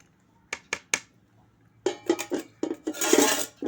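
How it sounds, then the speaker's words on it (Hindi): A spatula mixes carrot pickle in a metal vessel: a few sharp isolated clinks, then a busier run of scraping, tapping and clattering strokes, close and without speech. "पलटे की मदद से मिक्स कर रही हूँ मैं"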